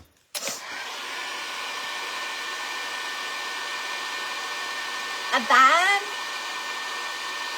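A handheld hair dryer blows continuously on a painted wooden spindle shelf sitter, a steady close whir broken by a short shifting pitch as it moves, with a brief word spoken early.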